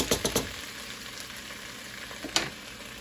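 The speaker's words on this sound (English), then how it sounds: "now we're going to go ahead and add in our onions" Onions hit a hot pan with a steady sizzle, opened by a quick cluster of three sharp scrapes and clatters and one more near the end, all close and fairly loud with no voices.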